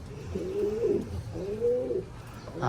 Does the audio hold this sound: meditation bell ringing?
no